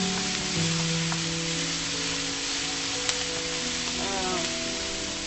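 Mung beans with shrimp and chicken fry in a little oil, a steady soft sizzle with faint crackles, fairly close and even, with no talk over it.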